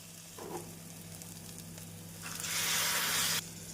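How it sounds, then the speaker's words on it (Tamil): Masala sautéing with boiled vegetables for a vegetable kurma in a pan, a soft steady sizzle with light stirring that swells into a louder, brighter hiss near the end, with no talking. "மசாலாக்கள் இந்த அளவு நன்றாக வதங்கி வருவோம் வேக வைத்த காய்கறிகளை சேர்த்து விடலாம்"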